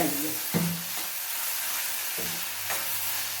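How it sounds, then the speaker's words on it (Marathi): Onion, tomato and okra sautéing in a pan for a Marathi-style okra dish, with a steady low sizzle and a few stirring scrapes over about three seconds. "कांदा टोमॅटो आपण परतून घ्यायचा आहे आणि लगेचच त्या भेंडी"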